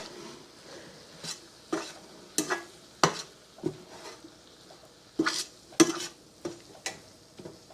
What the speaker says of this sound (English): Stir this in, and the grease that's in here will absorb the flour.